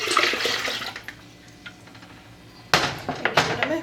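Lemon juice poured into a pitcher while making homemade strawberry lemonade, a brief splash and trickle of liquid at the start, a quiet lull, then a louder burst of pouring and sloshing near the end, close by.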